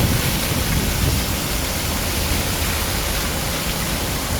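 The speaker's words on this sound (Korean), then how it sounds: "동상 앞에는 바닥 분수가 시원하게 물줄기를 뿜어내고 있는데요." Water jets from the Myeongnyang floor fountain, a ground-level fountain in front of the Admiral Yi Sun-sin statue in Gwanghwamun Square, make a steady, loud hiss of spraying and splashing that continues without any talk.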